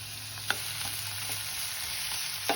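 Onion and tomato frying in hot oil give a steady, close sizzle that runs without a break, with a few soft clicks of stirring on top and no voices.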